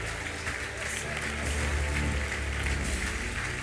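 A church congregation claps for the Lord during a Malayalam Christian sermon, a dense, sustained wash of applause under and mixed with a preacher's voice.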